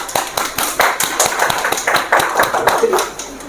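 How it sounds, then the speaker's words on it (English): A small audience at a spoken English course completion event claps for a student, a modest group of hands producing rapid, uneven claps in close bursts, fairly loud and continuous. "So let's give a round of applause for our Gayatri."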